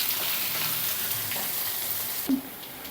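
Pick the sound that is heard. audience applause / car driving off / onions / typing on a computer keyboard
onions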